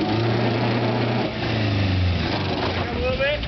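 A Subaru off-roading on a rock crawl obstacle, its engine droning and rising as it climbs a rock, with people talking over the motor throughout.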